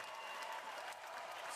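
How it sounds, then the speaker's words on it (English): Applause from a crowd during a live stream, steady clapping throughout at a moderate level with no talking over it. "stop all the people from doing their clapping."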